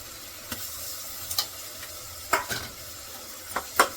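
Thick spice paste sizzles quietly in oil while a spoon stirs and scrapes the pan in a few sharp, irregular clinks.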